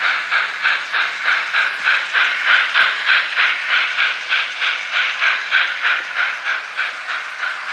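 N scale model of a T1 steam locomotive running, giving a steady rhythmic chuffing hiss at even pulses, with about three beats per second, close and fairly loud, with no talk.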